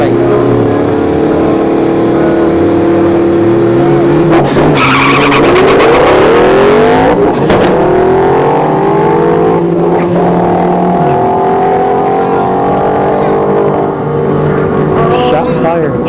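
Honda Civic and a Paxton-supercharged Mustang launch down a dragstrip, loud engines rising through the gears with a burst of tire squeal and a howling pass, crowd chatter and an announcer's voice underneath.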